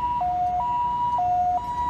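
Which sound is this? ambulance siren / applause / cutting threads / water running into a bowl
ambulance siren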